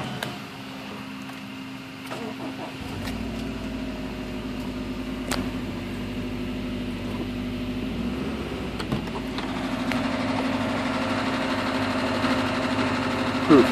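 Subaru STI engine idling with a rod knock after start-up, a steady low drone with faint ticking under it, running continuously at close range with occasional clunks.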